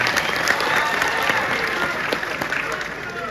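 Audience clapping at a Hindi kavi sammelan poetry recital in Lanji, a dense steady wash of applause from a large crowd that holds at an even level, with a few voices faintly beneath it.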